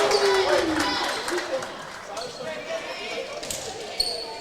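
Crowd cheering in a gym at a women's college volleyball match, Thiel against Waynesburg, a loud burst of cheers and applause that fades under an announcer's voice, with sneaker squeaks and a sharp hit near the end.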